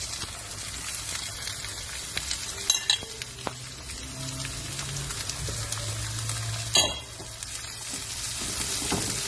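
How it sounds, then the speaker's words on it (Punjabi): Onions fry in hot oil with spice tempering for a Punjabi turnip dish, sizzling steadily while a spoon stirs and scrapes the pan in a few sharper bursts, close and without talk. "ਹੁਣ ਆਪਾਂ ਇਹਦੇ ਵਿੱਚ ਪਿਆਜ਼ ਐਡ ਕਰ ਦਾਂਗੇ"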